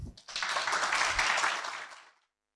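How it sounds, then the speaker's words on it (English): Warm audience applause welcoming a lecturer at a lecture on studying a neighbor's faith, a fairly soft burst of massed clapping that holds for about two seconds, then fades quickly into silence. "Please join me in a warm applause."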